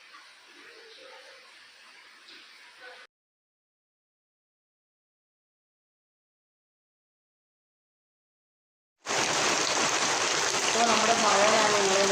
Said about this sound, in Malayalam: ഇവിടെ രണ്ട് ദിവസമായിട്ട് ഭയങ്കര മഴയാണ്